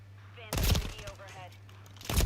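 Rapid gunfire bursts loudly in the video game Call of Duty Modern Warfare III, heavy crackling volleys starting abruptly and returning at the end, over a steady low hum with faint tonal game sounds.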